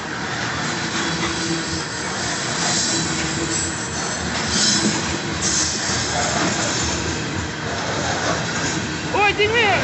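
A BNSF southbound grain train on trackage rights, led by two locomotive units, rolls past with a steady broad rumble and rail noise throughout. Wheel squeal comes in near the end, and voices talk over it.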